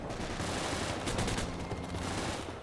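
A tank's hull machine gun fires continuously in a Desert Storm campaign mod for a first-person tank warfare game, a dense, rapid rattle of shots that stays loud and unbroken over a heavy low rumble.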